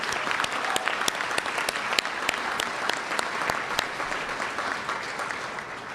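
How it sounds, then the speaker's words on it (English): Dense, steady applause from a banquet audience at a scholarship event, many hands clapping together at an even level throughout, no voices on top. "let's just give everybody a collective round of applause for making this happen"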